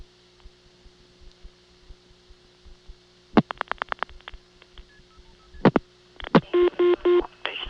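Telephone dialing tones on an old Stromberg XY exchange line in Ocala, Florida: a hum-laden line carries a quick run of clicking pulses, a few faint tones, then several short bursts of steady multi-tone signalling near the end, with no voices.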